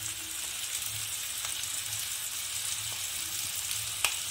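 Capsicum and onion frying with dry spices in a pan, giving a steady soft sizzle throughout with a few faint clicks and taps, no talking over it.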